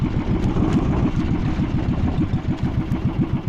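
An engine with an uncovered exhaust runs during a fishing trip, giving a loud, close, rapid low chugging with a rattling edge that stays steady throughout.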